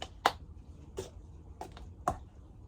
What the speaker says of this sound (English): Clap, grab, hand, table. Try it again.